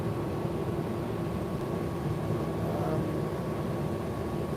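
An older TTC diesel city bus idles between stops with a steady low engine rumble and hum, constant and close, with no voices.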